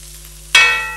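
Cabbage goes into a hot pan on high heat for fried rice, setting off a sudden loud sizzle partway through. A quiet hum comes before it, and the frying hiss fades slowly afterward.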